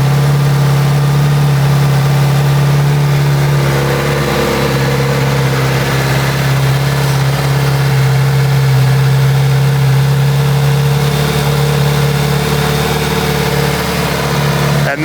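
A stock-exhausted Kawasaki Z900 RS motorcycle idles steadily and close by, a loud, continuous low engine hum with a smooth, even rumble and no revving or speech throughout.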